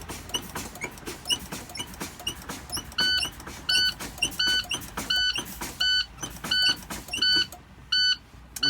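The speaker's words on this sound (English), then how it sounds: "At that time, the low air pressure alarm should sound." A truck's low air pressure warning buzzer beeps in a steady repeating pattern of short pulses while the brake pedal is pumped down. The alarm is loud and close over mechanical and air noise, and nobody speaks.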